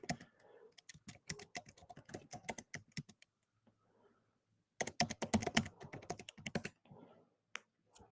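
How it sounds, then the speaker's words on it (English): Rapid clicking of keys on a computer keyboard in two bursts separated by a quiet pause, close and crisp, with no talk. "Please type for now."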